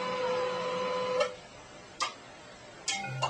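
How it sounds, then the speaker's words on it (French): Xerox office printer whirring steadily with a mechanical hum, then a few sharp clicks and brief motor bursts as it stops and restarts, close by with no talk. "Est-ce que l'imprimante de Xerox de merde?"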